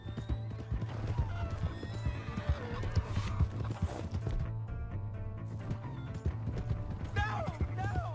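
In the video game Red Dead Redemption 2, a horse gallops with rapid, close clip-clopping hoofbeats and loud whinnies, over a low drone and scattered clanking game sounds.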